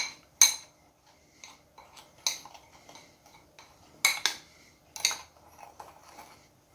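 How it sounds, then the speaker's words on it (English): A spoon stirs cinnamon and sugar together in a bowl, giving sparse, light clinks and scrapes in irregular bursts, fairly close and quiet with no talking. "Just mix the cinnamon and the sugar."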